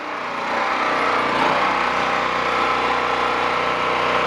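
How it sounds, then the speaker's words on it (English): A small engine powering a drill press runs loud and steady throughout, its drone surging unevenly under load with a constant broadband roar and no talk. "It surges with a load."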